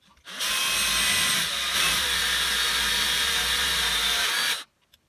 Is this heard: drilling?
yes